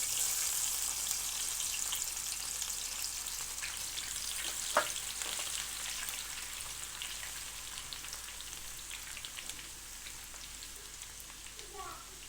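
Garlic sizzling and frying in a cup of hot oil for dhaba-style moong dal, a steady crackling hiss throughout with a brief sharp clink near the middle, fading slightly toward the end.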